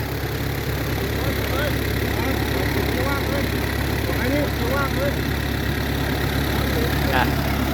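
An engine idles steadily in neutral gear beside a fish pond, a continuous loud low rumble that does not change throughout, with people talking over it.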